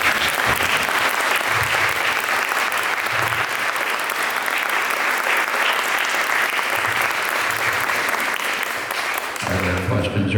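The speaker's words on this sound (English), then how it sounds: "another round of applause for him." A room of attendees at a speaker-series talk on Norman Studios gives the presenter a sustained round of applause, dense and loud for about ten seconds, with a faint low murmur underneath and the clapping thinning right at the end.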